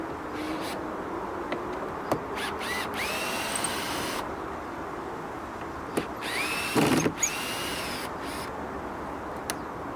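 A power driver backs screws out in a couple of short, whirring bursts that rise in pitch, set against a steady outdoor background hiss with a few sharp knocks in between.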